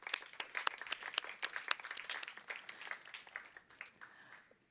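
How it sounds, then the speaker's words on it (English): A modest audience at a game-development talk on Overwatch character creation gives a round of applause, with sparse, distinct individual claps that thin out and fade near the end. "Round of applause."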